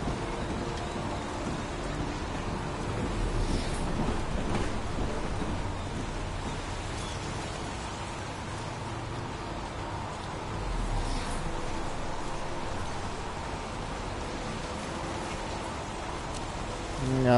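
Steady rain in the video game Heavy Rain, a dense, even hiss of falling water with soft low rumbles underneath, continuous and fairly close, with no voices.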